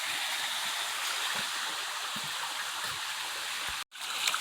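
Steady rushing water of a waterfall and stream in a wooded canyon, a continuous broadband roar filling the whole clip with faint low gurgles, briefly cut off near the end before resuming.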